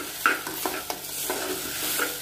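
Rice with raisins and ginger is stirred in a sizzling pan, with repeated scraping strokes over a constant frying hiss.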